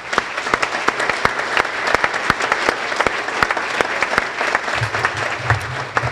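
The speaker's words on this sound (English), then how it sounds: "we could give them a round of applause" An audience applauds the members of a volunteer Foundation Board, a steady wash of clapping from many hands at moderate distance, with a few sharper individual claps standing out throughout.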